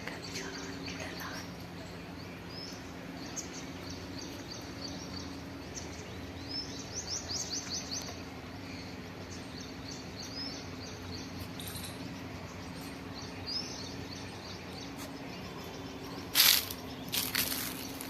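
Black drongo and other birds calling from trees outdoors, a steady mix of scattered chirps and whistles over constant background hum, with a brief louder burst of calls near the end.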